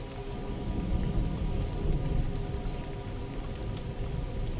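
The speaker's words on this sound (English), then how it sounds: "The rain is already falling, soft and even, like a steady breath across the fields." Soft, steady rain falls evenly throughout, a continuous gentle hiss with no breaks and no voices.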